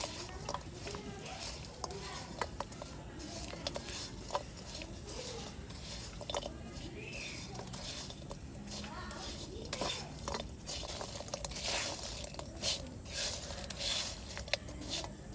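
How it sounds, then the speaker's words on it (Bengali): Morali is stirred continuously in sugar syrup in a pan, giving soft scraping, patter and light clinks of utensil against metal, close and fairly quiet throughout. "মুড়ারিগুলো দিয়ে অনবরত নাড়াচাড়া করব"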